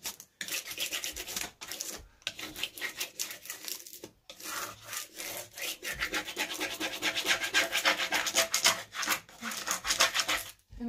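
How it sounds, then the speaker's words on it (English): A carved wooden piece is scraped smooth in repeated rasping strokes with short pauses between them, close and fairly quiet, with no speech. "a nice scraping does the trick for the larger areas"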